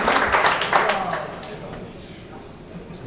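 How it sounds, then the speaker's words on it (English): A short burst of audience clapping for a 100-ball run at a straight pool match, loudest at the start and fading out within a couple of seconds. "a little clap for a 100-ball run"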